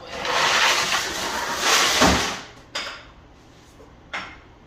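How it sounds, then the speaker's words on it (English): Metal drain pan scraped and shuffled across a surface near a light tower generator, with a rough sliding rasp followed by two short clanks. "Let's get this little drain pan out of the way."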